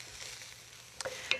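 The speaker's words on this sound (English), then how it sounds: "We want it to saute nicely." Onions and seeds sauté in a pan, a faint steady sizzle with a couple of sharper stirring clinks near the end and no voices.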